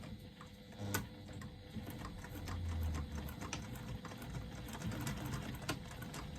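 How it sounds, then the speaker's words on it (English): A sewing machine topstitches a zipper placket on a garment at a reduced stitch length, a quiet steady mechanical whir with light ticking of the needle and a faint hum, and no one speaking. "I'm going to stitch using a 3/8 of an inch seam allowance, reducing my stitch length a little."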